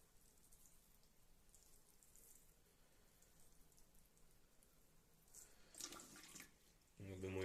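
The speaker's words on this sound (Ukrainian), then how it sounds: "Зараз легенько ще полию. Взяв ліючку з теплою водою." Warm water poured from a watering can onto freshly sown pepper seedling soil, a faint soft trickle and patter that grows a little louder near the end.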